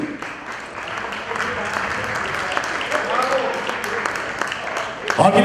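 Sustained audience applause fills a wedding celebration hall, steady and dense throughout, with a voice speaking over it and a louder burst of clapping near the end.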